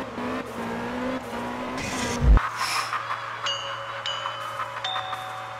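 A Toyota Supra drifting in the Absolute Drift racing game, with revving engine tones rising and shifting, a sharp burst of tire squeal mid-way, then lighter engine whine under gear changes, close and loud with no talk.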